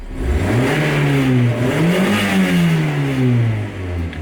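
A car engine turns over and catches, then revs up and down in rising and falling sweeps for several seconds, loud and close, with no talking over it.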